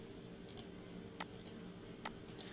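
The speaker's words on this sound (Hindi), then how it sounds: "और इंटर की प्रेस कर देंगे।" Computer keyboard keys, including the Enter key, click a few times, sharp and faint against a quiet background hiss.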